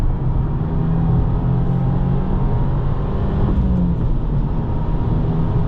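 A 2025 Subaru WRX tS engine held near the top of fourth gear at about 106 mph, a steady, loud, close cabin drone and road rumble with no shift.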